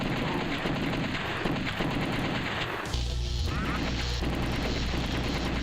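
Video game gunfire hits an enemy as rapid bursts of automatic shots crackle over a busy game soundtrack. A sudden heavy low boom interrupts midway, and there is no talking.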